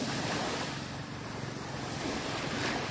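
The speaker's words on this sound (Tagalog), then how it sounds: "Kalma po ang dagat." A calm sea off Marinduque washes against the shore in a steady, broad surf wash, with wind noise buffeting the microphone throughout and no voices.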